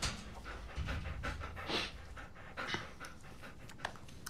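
A large dog pants steadily and close by in rapid rhythmic breaths, with no talk over it.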